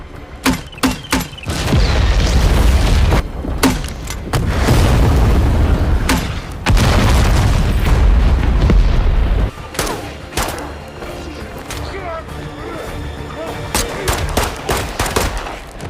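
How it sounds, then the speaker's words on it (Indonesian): A film action scene in which a former special forces soldier attacks a mafia squad with a launcher: loud, dense booming explosions and bursts of gunfire, sharp shots at first, then sustained blasts, then scattered cracks, with no talking. "Tyler pun langsung menyerang pasukan Zurat yang tersisa dengan senjata pelontar serta skill bertarung"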